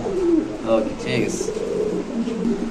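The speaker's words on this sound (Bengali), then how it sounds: "এখানে আছে একটা লাহোরি কবুতর" A Lahori pigeon coos in soft, repeated, throaty calls, heard close while someone talks over it.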